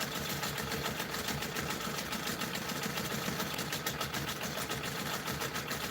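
A sewing machine runs steadily while stitching a pebble background fill, going over previous stitches to build up thickness; the motor hums continuously with a fast, even mechanical patter and no talking.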